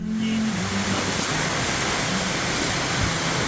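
A waterfall in the Peruvian jungle near Quillabamba roars as a steady, dense wash of broadband noise, constant and loud with no talking.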